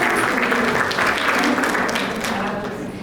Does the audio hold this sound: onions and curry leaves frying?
no